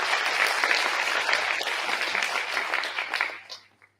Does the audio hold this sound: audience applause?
yes